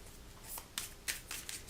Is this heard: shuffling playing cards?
yes